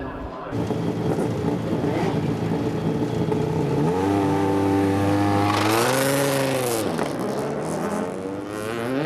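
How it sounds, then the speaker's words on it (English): Race cars accelerating away from the start on a drying racetrack during a Formula 1 support race, engines revving loudly and rising in pitch as they pass close by, with a sustained roar throughout. "for once Adam doesn't make the best of starts, overtaken on the opening straight"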